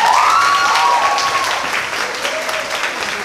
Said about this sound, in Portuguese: Palmas pro Elipsis, pessoal.